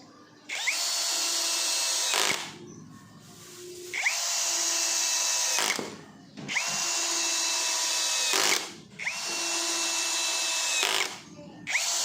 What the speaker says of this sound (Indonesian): Berikutnya saya akan menyekrup menggunakan sekrup dengan ukuran yang biasa kita gunakan. Untuk medianya adalah kayu mahoni dan tanpa pre-drilling.